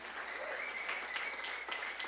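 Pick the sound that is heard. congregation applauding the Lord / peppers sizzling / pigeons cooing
congregation applauding the Lord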